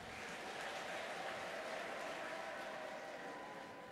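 A church congregation applauds, producing a faint, dense, steady patter of many hands clapping throughout that sounds rather distant, with no clear voices over it.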